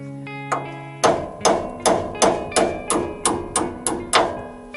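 A sledgehammer knocking parts out of a Dana 44 front axle from a 1990 Dodge Power Ram W150: about nine sharp, ringing metallic blows in an even rhythm, close and loud, after a brief humming tone.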